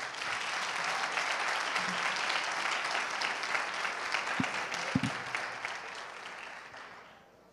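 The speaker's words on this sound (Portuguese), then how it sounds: "Dê uma salva de palmas, Jesus." A church congregation gives sustained applause, a dense, steady wash of many hands clapping that carries on for several seconds before tapering off near the end.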